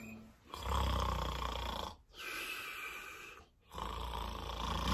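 A person fakes loud snoring in a kids' movement song, three long, rasping snores close to the listener with short breathing gaps between them.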